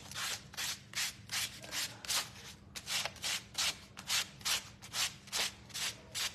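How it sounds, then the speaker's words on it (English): A handmade wooden gnome craft piece being sanded by hand, with a steady run of about a dozen rhythmic rasping back-and-forth strokes, close and clear against a faint background hum. "I'm gonna sand."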